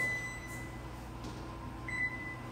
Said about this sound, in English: my timer keeps beeping